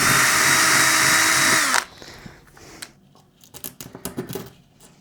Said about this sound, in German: Da bohre ich jetzt erstmal ein Loch.